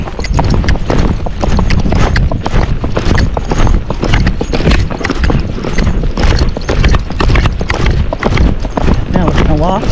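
Missouri Fox Trotter horse cantering, hooves clip-clopping in a fast continuous rhythm close by, with a rider's voice and a neigh over wind noise.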